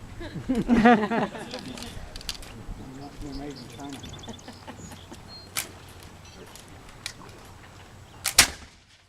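A musket fired in a demonstration at Fort Ticonderoga gives one sharp, loud crack near the end, with a smaller report a few seconds earlier. People talk over an outdoor background before the shot.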